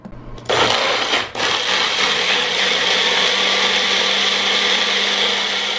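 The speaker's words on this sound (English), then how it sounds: "I'm basically just gonna go ahead and blend it up until it is smooth" A Magic Bullet blender purees jam until smooth, starting with a brief burst and stop before settling into a loud, steady high whir that runs close and continuous to the end.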